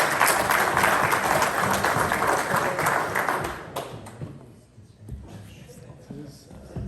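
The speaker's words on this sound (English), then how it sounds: "Let's give him a round of applause." Applause from an audience at a Grand Siyum celebration marking completion of the Tanya, loud and dense for about four seconds before thinning to scattered claps and murmuring voices.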